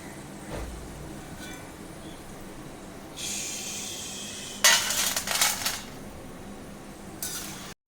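Fried jackfruit chips lifted out of hot oil in a pan, metal slotted spoon scraping and clinking against the pan in a few bursts over a soft background hiss, with no talking.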